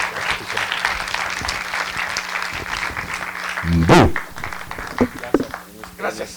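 Audience applause for Luis Estrada, director of "El Infierno," at a talk: sustained clapping from a crowd continues through the stretch, with brief voices and a few nearby knocks and taps breaking through toward the end.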